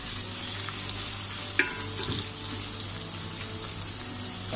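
Garlic sautéing with onion in a hot pan for pork rib sinigang gives a steady, dense sizzle throughout, broken by a few faint utensil clicks and scrapes, with no voices.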